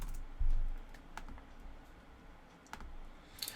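Scattered keystrokes on a computer keyboard as a repository name is entered, quiet, sparse clicks with a short thump near the start and a few taps near the end.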